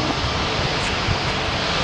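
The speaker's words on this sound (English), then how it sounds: "so the British Airways. Get the tag on that in a second. Nice clean aircraft, isn't it?" A British Airways airliner at Manchester Airport gives a loud, continuous engine roar that stays steady through the moment, with no voices heard.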